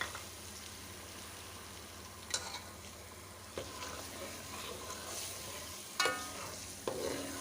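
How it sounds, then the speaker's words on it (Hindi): Blended tomatoes fry in oil for egg chole, making a soft, steady sizzle with occasional louder scrapes and clinks of stirring. "टमाटर को हम तब तक भूनेंगे जब तक कि इनका कच्चापन ख़त्म ना हो जाए"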